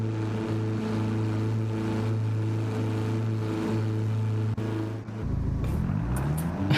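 A race car engine idles in Gran Turismo 7, a steady low humming drone with stable harmonics, briefly dipping before settling into a rougher, shifting tone near the end.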